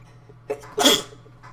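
A single sharp sneeze from a person, close and loud, bursting out after a short inhaled catch, with a steady low hum underneath.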